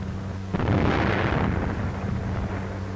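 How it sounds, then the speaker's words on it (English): A dynamite blast on a WWII-era Russian road-building site, newsreel footage: one heavy rumbling explosion bursts out and rolls on as a long, loud, low roar over a steady hum. "loyal workers are blasting and grading roads"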